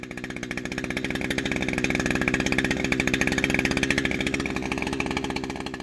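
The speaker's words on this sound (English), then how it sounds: "turn the idle speed screw in clockwise until the head of the weed eater just starts to turn" A small two-stroke weed eater engine runs at a rapid idle during idle speed screw adjustment, a dense buzzing putter with a steady fast pulse that swells slightly then eases, close and continuous with no talk.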